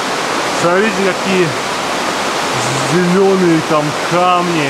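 Water runs steadily down rocks in the Vorotan gorge in Armenia, near caves hung with stalactites, making a continuous close rushing hiss while people talk over it.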